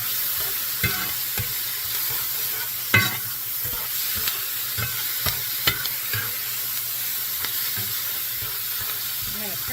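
Beef browning in a cast iron skillet gives a steady broad sizzle, with scattered scrapes and taps of a utensil stirring the meat, close and continuous throughout.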